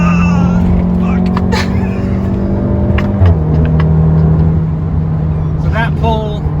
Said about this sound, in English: Run it through its gears. I'm only at like part throttle, it's already 100 dB.